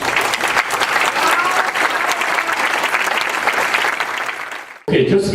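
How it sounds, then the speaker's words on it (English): An audience at a public forum on corruption breaks into loud, dense applause that holds steady for nearly five seconds before cutting off abruptly, followed by a moment of speech. "Maybe one more round of explosive applause for C4."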